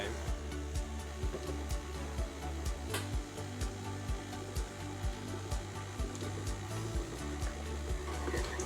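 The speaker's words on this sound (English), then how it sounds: "it's going straight into the mixer. And we'll just mix it on a low speed" A stand mixer motor whirs steadily on its lowest speed with a regular rhythmic thumping as pumpkin spice cookie dough turns and slaps inside the bowl.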